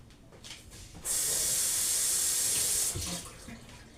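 Tap water runs hard for about two seconds while two bottles are washed for homemade Jamaican-style sorrel drink. It starts abruptly as a loud, steady hiss close by, then cuts off, leaving quiet room sound.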